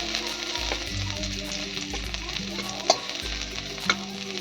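Chopped garlic sizzles in a hot pan over a raised gas flame and is stirred now and then, with short scraping strokes and a couple of sharp clicks over the steady frying.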